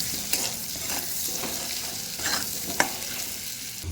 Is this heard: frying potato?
yes